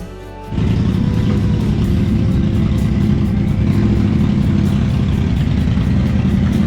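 Group of motorcycles setting off together on a cold-weather club ride, a dense low engine rumble that starts abruptly and holds steady and loud, close by with no talking.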